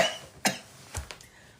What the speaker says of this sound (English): let me see if I can get my cough calmed down here for a second